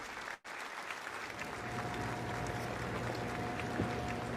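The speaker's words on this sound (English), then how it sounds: "let's give a big round of applause for Dr." An audience applauding a speaker introduced at an event, steady massed clapping after a brief silent break, fairly distant and even.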